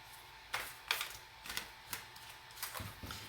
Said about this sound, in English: Why am I still shuffling the same deck?